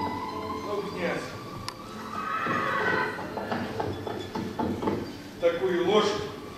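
A horse neighs and whinnies during a Romani theatre stage performance, mixed with clip-clop sounds and actors talking over it throughout.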